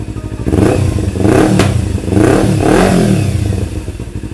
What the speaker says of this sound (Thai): ผมมาฟังเสียงท่อกันเลย เสียงนุ่มๆเพาะๆเลยนะครับ ผมสไตล์สองสูบนะ